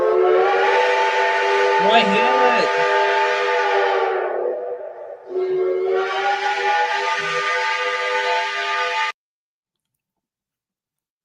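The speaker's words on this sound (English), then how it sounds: "an NYC Mohawk whistle." A loud, sustained chime-like New York Central Mohawk locomotive whistle sounds twice with a short gap between, its rich harmonic tones ending abruptly; a voice speaks briefly underneath.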